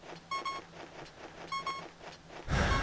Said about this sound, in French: ce bip-bip de merde